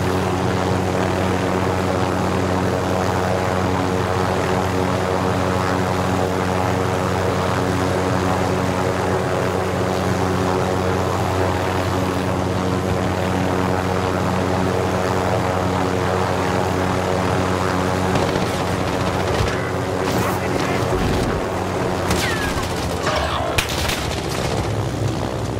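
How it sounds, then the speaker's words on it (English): Helicopter flying in Call of Duty Warzone, a steady loud rotor and engine drone holding throughout, with bursts of gunfire breaking in near the end. "That means get in the helicopter."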